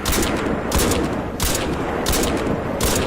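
Rapid gunfire from Crysis 2 Remastered, with bursts of sharp shots repeating roughly every two-thirds of a second over a dense, loud background of battle noise, no voices.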